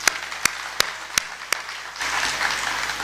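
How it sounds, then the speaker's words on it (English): A few scattered claps from a conference audience give way to broader applause, fairly quiet and brief. "So a round of applause for everybody,"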